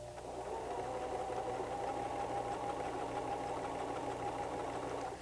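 A White 1735 sewing machine stitches through fabric with a steady, fast mechanical whir and rapid needle clatter, running continuously and close with no talk.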